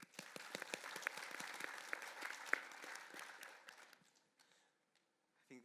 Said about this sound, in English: Round of applause for the question.